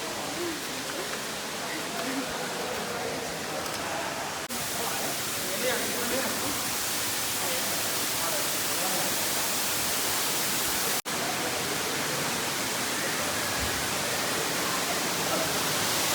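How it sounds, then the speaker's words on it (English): A waterfall in Bali gives a loud, steady broadband roar of rushing, crashing water, constant and close throughout with only a couple of brief cuts. "Headed to the waterfall."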